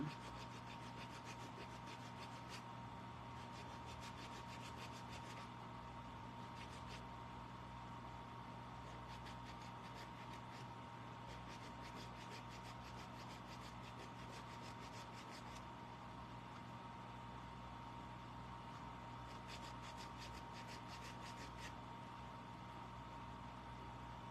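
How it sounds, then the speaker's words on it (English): Steady, continuous rubbing of sandpaper across the back of a wooden craft piece, a close, even scraping texture that runs unbroken without pauses or talk. "You don't really need to sand down the back"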